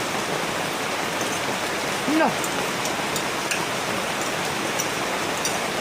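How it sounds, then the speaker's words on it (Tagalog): Heavy rain pours in a constant dense hiss outdoors, with a brief voice speaking under it partway through. "Lakas na ulan ah!"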